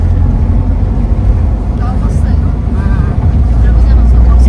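A car drives along a narrow village road in Maharashtra, its engine and tyre roar loud and steady from inside the cabin, while people talk over it.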